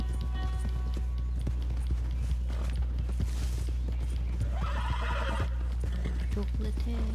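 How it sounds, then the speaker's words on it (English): A horse in Red Dead Redemption 2 clops along with steady, close hoofbeats over a low rumble and lets out a bright whinny partway through. A person talks over the game sounds. "I got this horse in story mode, and I named it Chocolate."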